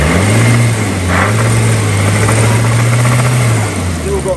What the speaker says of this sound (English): The alternator's quietened right down.